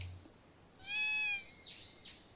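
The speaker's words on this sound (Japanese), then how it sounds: "猫？" A single cat meows in the Japanese horror video game Yomigaeri no Kioku, one clear drawn-out call lasting about half a second, moderately loud over a quiet, faintly hissing background.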